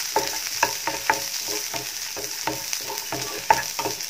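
Shallots, dried chillies and curry leaves fry over a low flame, a soft steady sizzle punctuated by regular rhythmic stirring scrapes of a spatula against the pan, close by and without speech.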